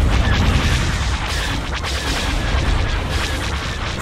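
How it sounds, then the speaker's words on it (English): Booming space battle barrage in Star Wars: Empire at War as an ion cannon fires, a loud, dense and continuous wash of blasts and rumbling impacts. "Ion cannon firing."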